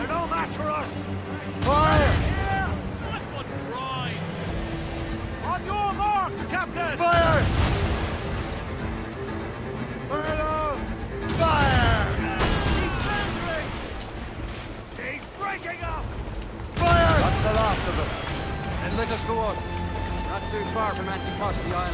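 Bursts of musket gunfire and booming cannon fire come from a naval battle in Assassin's Creed Rogue. Loud volleys repeat every few seconds, with shouted voices and a music score underneath.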